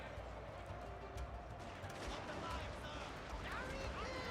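Line infantry volleys rifle fire in Total War: Fall of the Samurai, a dense crackle of shots over a constant battle roar with a voice talking through it.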